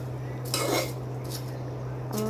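Vermicelli fries in ghee in a pan as a utensil scrapes and stirs it, giving a few short metallic scraping bursts over a low steady hum.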